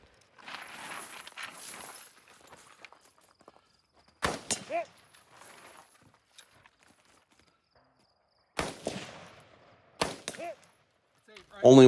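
Rifle shots fired from unusual shooting positions in woodland, a few sharp loud cracks separated by long pauses, with quiet rustling and movement between them.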